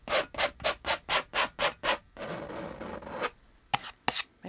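Paint is scraped across a canvas in a cozy cabin landscape painting: eight quick rhythmic rasping strokes, then a longer continuous scrape, and two more brief scratches, close and clear with no talk.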